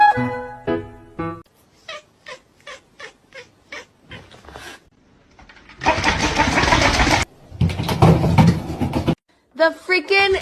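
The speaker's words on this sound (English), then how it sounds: "That looks like a house cat." A house cat meows in a quick series of short, evenly spaced cries. Loud noisy bursts and a voice follow.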